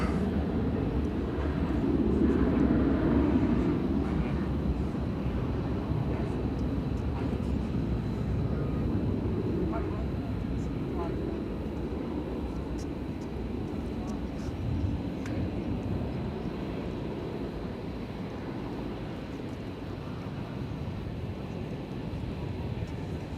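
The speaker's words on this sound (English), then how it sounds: "it's Delta Flight 1516 from Minneapolis, St. Paul, on Airbus A320" A Delta Airbus A320 airliner at DFW airport at night gives a broad, steady engine roar that swells early and then holds at moderate distance, with someone talking over it.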